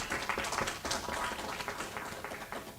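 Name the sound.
audience clapping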